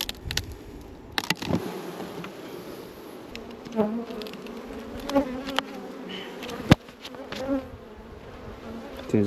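Honey bees swarm around a hive during a honey harvest as the super is blown out, a dense continuous buzz with wingbeat drone and sharp clicks and knocks from the hive equipment.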